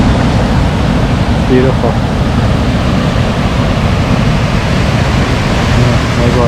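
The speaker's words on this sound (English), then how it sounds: "I get to sit at the top of Agawa Falls" Water from Agawa Falls in Lake Superior Provincial Park rushes in a dense, even roar heard from the top of the falls, steady and loud for the whole stretch, with one brief spoken word partway through.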